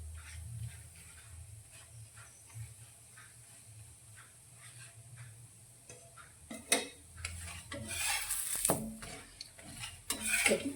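A paratha roasting on a pan over a medium gas flame, with soft sizzling and the clinks and scrapes of a utensil against the pan growing busier toward the end, close and alone without talk.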